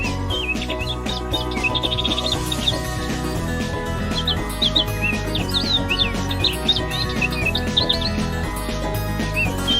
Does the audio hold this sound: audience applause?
no